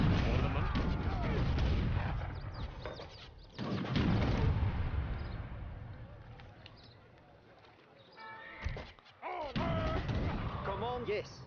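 Cannon fire in Age of Empires 3 during a campaign battle: booming shots and impacts in bursts over busy game sounds, with a quieter lull before more blasts near the end.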